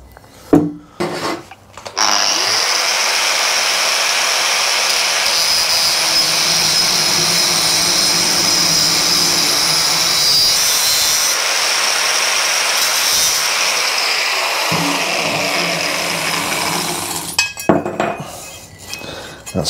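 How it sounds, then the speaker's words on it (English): A power tool cuts a section out of a part on a Suzuki GS motorcycle project, making a loud, steady high-pitched grinding whine that holds for about fifteen seconds, with scraping and clinks before and after. "I'm going to cut this out"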